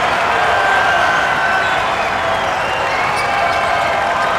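Basketball arena crowd at Raleigh Center roaring and applauding during an NCAA college game between St. Bonaventure and VCU, a loud sustained wash of cheers and clapping from a large audience.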